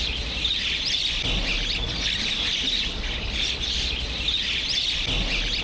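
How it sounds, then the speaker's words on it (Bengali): A dense crowd of birds chirps and squawks continuously close by during a feeding, the calls steady and loud with no talking over them. "পাখি কত কাছটায় দেখেন, বাট এখনো একটা পাখি কিন্তু উড়ি নাই, একদম কাছে"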